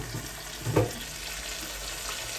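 A blended mixture of vegetables, tomatoes, onion and garlic hits a pan of cooking duck, giving a steady close sizzle with a brief louder splash near the start.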